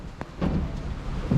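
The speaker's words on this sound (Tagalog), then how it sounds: "Lumalakas ang ulan!" Heavy rain pours in a dense hiss, with scattered low thuds and rumbles mixed in.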